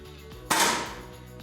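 A single sharp shot from a para-sport shooting rifle, a sudden loud crack that fades over a fraction of a second against a quiet indoor background.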